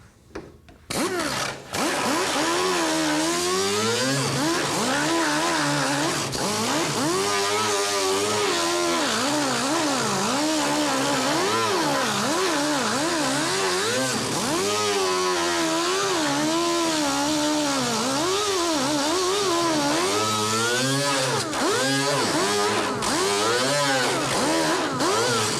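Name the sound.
grinding Corvette fiberglass with a power grinder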